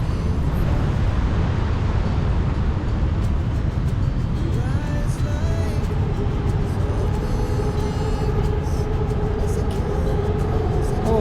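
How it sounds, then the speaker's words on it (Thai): A loud, continuous rumble of a train running along the tracks, with faint squealing tones rising and fading partway through as it rounds a curve. "รถไฟวิ่งสไลด์โค้งนะครับ"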